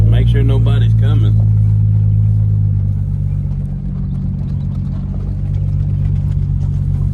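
Custom Studebaker roadster with its engine running as it drives, a loud steady low rumble throughout, with someone talking briefly over it at the start.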